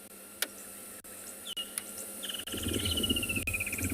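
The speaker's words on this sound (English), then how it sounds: "We're listening to the wonderful sounds here. You'll be able to hear some grey-headed sparrows," Grey-headed sparrows singing at sunset on a safari, with thin high chirps and a short trilling phrase over a faint insect hum, then a rising rustle of low background noise.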